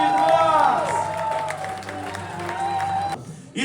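A crowd claps and cheers for a prize winner at a coffee festival awards ceremony in Lviv, honoring the coffee roasting championship. The steady, loud applause plays over a tonal musical background and cuts off abruptly near the end.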